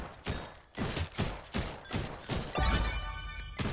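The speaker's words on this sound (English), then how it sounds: "That's why we're shooting." Rapid gunfire against goblins in the game Guns 'n Goblins, a quick series of close, punchy shots mixed with crunchy impact sounds, with no talking.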